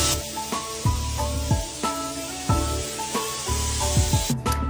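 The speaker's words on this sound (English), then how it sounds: "Their antibacterial mist treatment is also a must." Antibacterial mist is sprayed inside a condo during a cleaning service, a series of short hissing bursts repeating at a quick, fairly regular pace close by.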